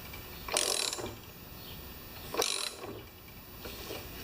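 Thread tap cutting new spark plug threads into a stripped Lawn Boy mower engine head, three faint ratcheting metal scrapes spaced about two seconds apart, close by with no talk.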